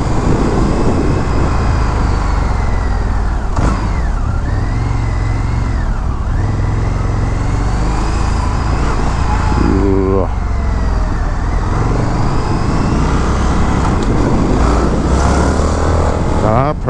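A 2023 Indian FTR R Carbon motorcycle rides through evening rush-hour traffic, its engine droning loudly and steadily with rising and falling revs and wind rush throughout, while a rider talks over it.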